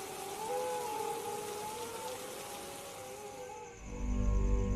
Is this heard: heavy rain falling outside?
yes